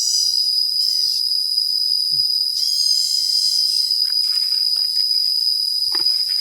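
Cicadas calling outdoors in a steady, high, continuous shrill drone that dominates throughout, with faint rustling and small knocks underneath and no talking.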